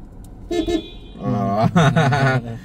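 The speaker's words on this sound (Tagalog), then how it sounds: "The horn is here." A Mitsubishi Xforce car horn sounds twice: a short toot, then a longer, louder honk, close up inside the vehicle.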